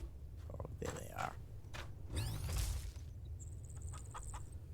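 Chickens in the farming game Farm Together 2 cluck and squawk in short scattered bursts at moderate level, with a thin high tone and other game sounds mixed in.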